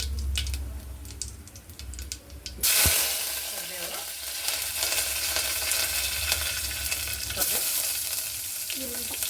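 Sliced onion hits hot oil already crackling with mustard seeds and cumin, setting off a sudden loud sizzle that settles into steady, close frying with a few light taps from the spoon.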